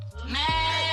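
A single sheep bleats close by in Westchester, Pennsylvania, one wavering, nasal cry lasting about a second, with no talk over it.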